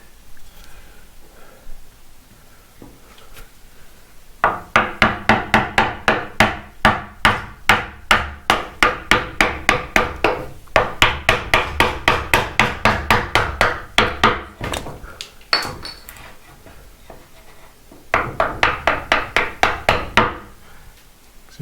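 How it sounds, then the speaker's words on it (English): A very blunt chisel driven into wood with a hammer while framing out walls, loud close strikes in fast steady runs separated by short pauses. "Very blunt chisel,"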